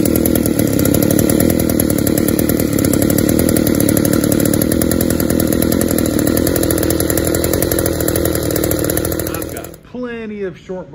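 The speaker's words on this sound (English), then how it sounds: "These old motors, they just crank so easy." An old engine fitted with a factory short block runs steadily at a loud, even, buzzing idle close by, then cuts off near the end as a voice starts speaking.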